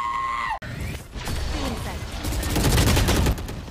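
Rapid bursts of gunfire in Valorant crackle loudly and continuously after a brief tone, dense and close, with voices shouting over the shooting.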